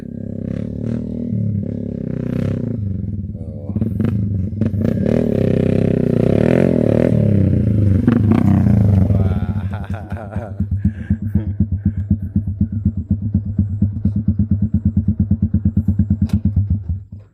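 A nearby motorcycle engine revs up loudly, then settles into a rapid, throbbing idle putter.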